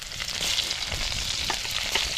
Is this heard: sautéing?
yes